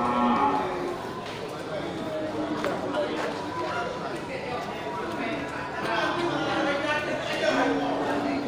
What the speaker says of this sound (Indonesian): Ya, juga banyak menyediakan sapi Aceh ya. Sapi jantan, kategori untuk sapi pengemukan.